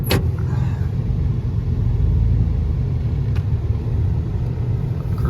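A pickup truck drives up a farm road, its engine giving a steady low rumble with road noise, close and continuous from inside the cab, with no talking.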